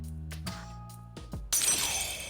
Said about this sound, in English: That was the sound of glass breaking,